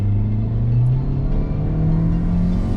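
A 4-cylinder 2.0-liter car engine drones steadily with a deep, loud rumble, holding a low idle-like hum throughout with no talking.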